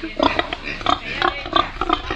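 A pig grunts in a series of short, rhythmic bursts at close range in a village in Palenque, Colombia, with a voice briefly talking over it.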